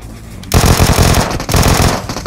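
Rapid automatic gunfire in PUBG Mobile, a loud, dense burst of shots that starts abruptly and carries on with a short dip before resuming, close and dominant with no talk.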